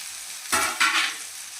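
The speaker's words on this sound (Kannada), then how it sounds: "ಆಲೂಗಡ್ಡೆ ಕಟ್ ಮಾಡಿದ ಆಲೂಗಡ್ಡೆ ಹಾಕೋರಿ." Cut potatoes tipped into hot oil with onions for masala dosa potato filling, giving two short bursts of loud sizzling and frying that fade to a quieter steady hiss.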